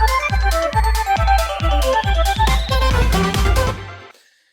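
A bright Splatoon-style battle loop plays its first interlude, punchy repeated bass hits under a rising synth line and busy melodic layers, all at strong level before cutting off and fading to silence.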